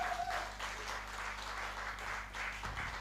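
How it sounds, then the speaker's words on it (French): Soft applause from a conference audience for an international ambassador, faint and somewhat distant, running steadily over a low background hum. "Est-ce qu'on peut applaudir pour notre ambassadeur international?"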